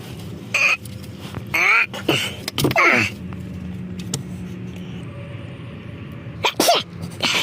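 A couple of sharp sneezes and throat sounds up close in a car workshop during a Mercedes C63 AMG oil service, spaced apart over a quiet background hum, with a short burst near the end.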